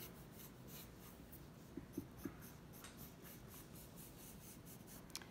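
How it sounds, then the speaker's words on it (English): Pencil lightly sketching on paper during a drawing lesson, a soft continuous scratchy rubbing with a few small taps, faint and close, with no talking. "So we're gonna start by lightly sketching in an upside down triangle."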